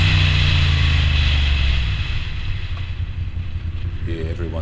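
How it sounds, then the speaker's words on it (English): A non-stock modified motorcycle exhaust on a bike at a Mods & Rockers ride in Christchurch, a loud deep engine rumble close by that eases off midway and carries on lower, with wind buffeting the microphone. "Great sounding exhaust on this bike."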